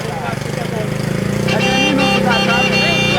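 A motorcycle engine runs steadily nearby on a crowded road, its drone joined by horns and traffic as a jeep is cleared through; people talk over the continuous motor noise.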